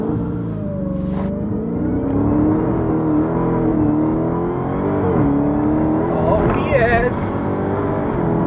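A 707 bhp Dodge Hellcat launching from a stop, its engine roaring and revving loudly up through the rev range from inside the cabin, with a man's excited exclamation over it.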